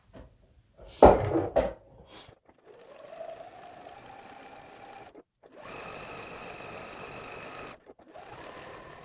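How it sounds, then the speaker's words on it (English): A sewing machine stitches quilt pieces together with a short, tight stitch length, running in a steady near whir that pauses briefly and starts again, after a louder clunk of handling at the start. "You want to sew across your seam just a little bit more before you come out of it, and just to kind of secure that."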